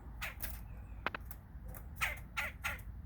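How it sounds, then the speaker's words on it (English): A red-bellied woodpecker gives a series of harsh, rolling calls outdoors, several short bursts spaced through the clip over a steady low background rumble, moderately close and fairly loud. "That was a red-bellied woodpecker."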